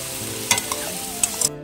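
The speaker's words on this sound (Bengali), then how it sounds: "আর এদিকে পেঁপের ঘন্টটা বসিয়ে দিয়েছি চিংড়ি মাছ দিয়ে।" A papaya curry with small shrimp cooks in a pan, giving a short spell of soft sizzling with a few sharp clicks of a utensil before it cuts off.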